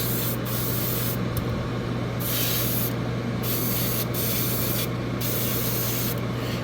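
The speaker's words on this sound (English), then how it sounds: "For instance, I'll spray these knee parts." Spray paint misted onto Gundam model kit knee parts in short repeated bursts, a close hissing spray with brief gaps between passes.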